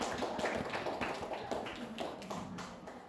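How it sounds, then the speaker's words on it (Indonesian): Classroom audience clapping for a student group after its presentation, a dense run of many hands with uneven rhythm, moderately near and fairly steady throughout. "Tepuk tangan untuk kelompok Safara."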